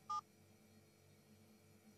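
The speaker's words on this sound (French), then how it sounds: "J'appelle ton téléphone et on attend de voir où il sonne." A single short telephone keypad tone, in a French children's cartoon about a tractor on a farm, sounds once near the start and then gives way to quiet background hum.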